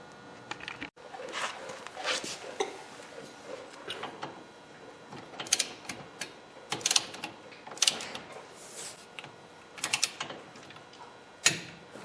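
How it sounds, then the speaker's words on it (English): Torque wrench tightening the wheel bearing nuts on a Honda Civic during a front wheel bearing replacement, a run of irregular ratcheting clicks and metallic mechanism snaps, close and moderately loud, with no talk. "So, I am going to set my torque wrench for, I believe it's 24 pounds,"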